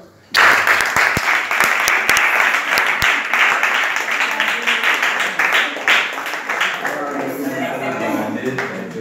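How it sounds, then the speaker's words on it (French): A small group applauds a child's exam score at a shared meal with children, the clapping loud and close and continuing steadily for several seconds, with voices mixed in. "Mais ça s'acclame, hein?"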